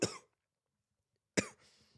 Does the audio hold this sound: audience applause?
no